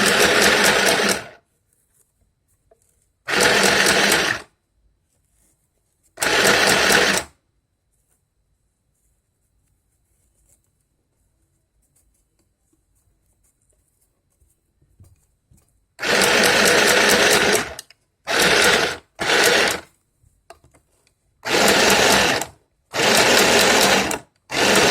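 A mini sewing machine stitches a saree border in loud, close bursts, three short runs separated by long silences, then a longer run followed by several quick stop-start bursts.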